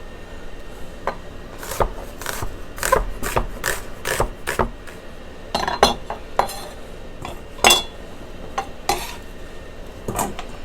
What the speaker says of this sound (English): I have a red onion here that I've peeled, and I'm just going to roughly chop it